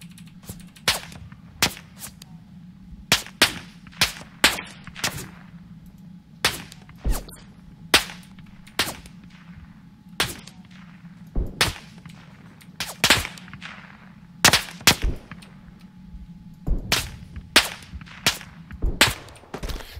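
Repeated gunshots in the Tannenberg World War I video game, sharp cracks arriving in irregular bursts over a low steady background hum, some close and loud, others quicker and lighter, with no talking.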